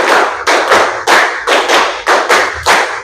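A sixth-grade class claps in unison in a counted pattern, with about eight loud, crisp group claps in steady rhythm over three seconds, close and clear with no voices.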